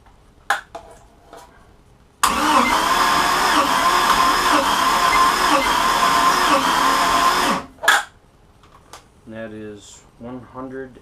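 A car engine cranks on its starter with the throttle held open during a compression test, a loud steady whirring churn of about five seconds, with brief clicks before it and talk following after.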